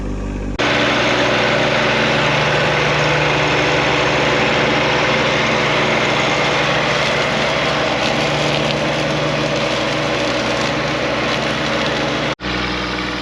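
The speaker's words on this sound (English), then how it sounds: "We're ready to mow." A mower cuts paths through a cross-planted corn maze field, its engine droning loud and steady at close range, with a sudden brief dropout near the end.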